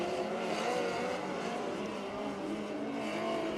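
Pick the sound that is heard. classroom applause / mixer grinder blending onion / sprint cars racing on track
sprint cars racing on track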